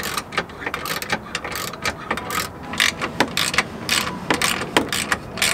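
A ratchet clicks in quick irregular bursts while tightening a lockout kit on Nissan 240SX suspension, sharp close metallic ticks with brief pauses between strokes.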